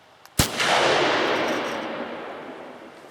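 A single sharp rifle shot from a Remington .308 firing 180-grain Core-Lokt ammunition through a Sako TRG muzzle brake, loud and close, followed by a long rolling echo that slowly fades.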